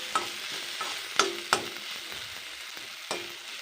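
Spices and coriander powder frying in a pan while being stirred, a soft continuous sizzle broken by several sharp scrapes and clinks of a spatula against the pan, close by and without voices.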